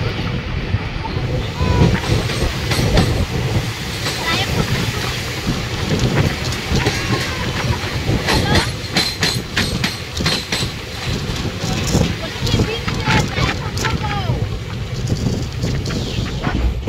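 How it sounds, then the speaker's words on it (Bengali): Kanchanjunga Express rolling over the Farakka Barrage rail-cum-road bridge across the Ganges, a loud continuous rumble with rhythmic clickety-clack of the wheels over rail joints, heard from inside a general coach. "এখন ট্রেনটা পাস করছে, এটাই হলো সেই ফারাক্কা ব্যারেজ"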